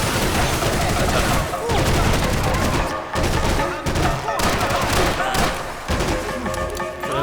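Rapid revolver and other gunfire in the video game Max Payne 3, loud and dense bursts of shots repeating through the scene with brief gaps, under a voice speaking.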